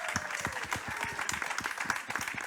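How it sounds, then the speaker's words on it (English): An audience at a talk claps in a quick burst of dense, scattered hand claps. It is moderately loud and lasts only a few seconds. "please give them another very big round of applause"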